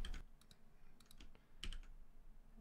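A password goes into a computer keyboard as a few scattered, soft, close key clicks in short irregular bursts, with no talking.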